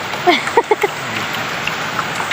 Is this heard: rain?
yes